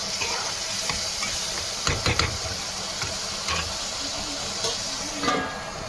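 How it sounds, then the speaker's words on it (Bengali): Crushed tomato masala fries in oil with a constant hissing sizzle, broken by a few louder scraping strokes as it is stirred close by. "এটা ভালো করে ভাজা হয়ে যাক, যখন ওই থেকে তেল ছেড়ে দেবে"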